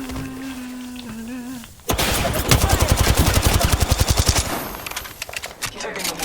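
Loud, rapid automatic gunfire in the battle royale game Apex Legends bursts in after a stretch of game sound and a voice, holding a fast, steady rhythm of close shots for several seconds.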